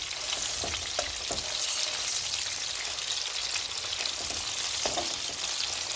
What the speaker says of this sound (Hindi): इन्हें हम सारी साइडों से गोल्डन फ्राई करेंगे।